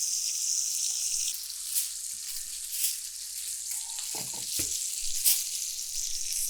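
Steak searing in an uncoated stainless steel pan gives a steady close hiss of sizzling fat, with a few brief clunks and scrapes partway through.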